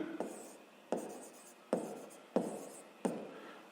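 Pen or pencil writing by hand during a sixth-grade math exercise, five short, crisp strokes spaced evenly about a second apart, each fading quickly, close and quiet with no talk.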